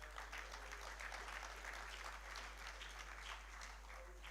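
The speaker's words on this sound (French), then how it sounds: "Il faut l'acclamer" Applause for a regional businessman at the official opening of the SIPEN 2023 conference: dense, steady clapping from a large audience, fairly distant and even throughout with no talk over it.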